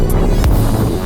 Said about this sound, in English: Jesus, it's getting windy here.